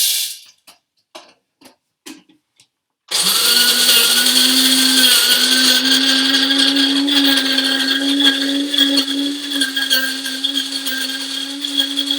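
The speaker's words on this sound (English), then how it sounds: "we are going to grind the beans on a medium setting" Electric burr grinder grinding coffee beans on a medium setting for pour-over coffee, a loud steady whirring drone that starts abruptly after a few faint clicks and runs on with a slowly shifting hum.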